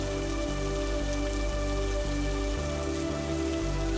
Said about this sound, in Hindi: ऊपर से बारिश भी होने लगी